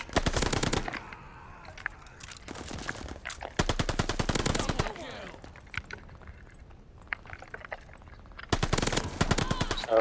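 Automatic weapon fire in the Call of Duty Vanguard video game, several loud rapid bursts separated by quieter stretches where someone talks over the gameplay.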